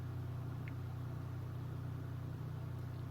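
Simulated sports car exhaust note played through an OBD plug-in device in a car, a steady low idling rumble with a constant drone, fairly loud and continuous, with no talking.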